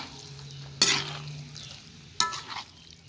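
Soya bean stew with tomato and spices in a pot, stirred twice, each stir bringing a loud sizzling hiss that fades between strokes against a quiet low hum, with no talking.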